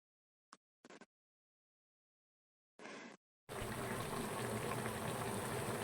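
A few brief clatters, then ground coconut paste and water pour steadily with a continuous splashing gush, close by.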